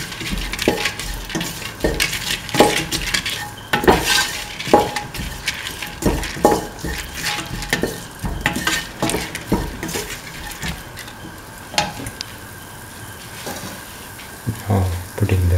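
Salt stirred into a mint and coconut dip mixture in a bowl, a steady run of close scraping and tapping spoon strokes with soft clinks, no talking.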